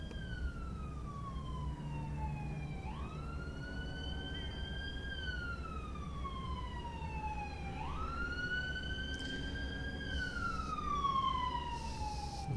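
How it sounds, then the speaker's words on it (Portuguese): A wailing ambulance siren sweeps up and down in long slow cycles, fairly distant and steady over a low rumble of traffic. "Sirene passando aqui na frente."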